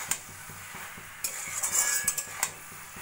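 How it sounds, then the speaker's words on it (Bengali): Cabbage and fried prawns being stirred in a pan over a low flame, with a few sharp utensil scrapes and clinks over a soft, steady sizzle, close and fairly quiet. "এবার লো ফ্লেমে এইভাবে নাড়া দিয়ে দিয়ে কিছুক্ষণ রান্না করে নেব।"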